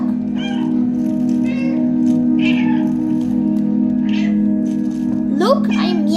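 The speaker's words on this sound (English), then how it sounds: "Look, I'm meowing." A cat meows repeatedly in the video game Stray, several drawn-out cries spread across the stretch, with a steady tonal hum running underneath and a rising cry near the end.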